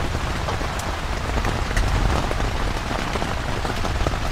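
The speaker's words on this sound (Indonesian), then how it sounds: "hujannya sangat deras" Heavy rain pours down steadily on a tent at a campsite, a dense, loud hiss of drops drumming close on the fabric with no let-up, gusty wind mixed in.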